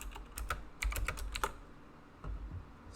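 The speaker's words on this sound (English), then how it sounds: "this is my new keyboard. It's very clicky and loud and awesome" Fingers type quickly on a clicky, loud mechanical computer keyboard, with crisp close keystrokes in short uneven bursts and no other sounds.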